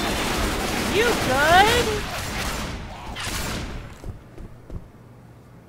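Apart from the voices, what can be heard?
gunfire in the video game Left 4 Dead 2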